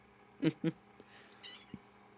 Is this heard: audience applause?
no